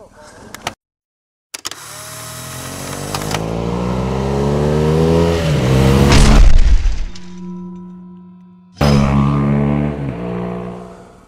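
A motorcycle ridden over a Swiss mountain pass between Pragelpass and Klöntalersee, its engine note rising and falling through gears, loud and close, with a brief cutout partway and a voice speaking over it.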